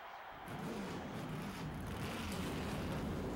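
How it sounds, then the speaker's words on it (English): Several race car engines rumbling together at once in the NASCAR Thunder 2004 racing game, a steady broad roar building slightly as the field starts up at Auto Club Speedway, with no talk. "Gentlemen, start your engine."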